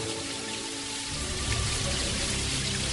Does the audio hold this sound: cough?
no